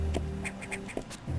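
A person imitates a duck with several short nasal quacks in a quick, uneven series, close and fairly loud, over a steady low background hum.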